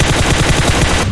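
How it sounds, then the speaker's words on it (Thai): Loud, rapid automatic gunfire in PUBG Mobile as a player shoots at a car, a dense unbroken burst of shots up close for about a second before it cuts off. "ผมยิงจนรถระเบิด"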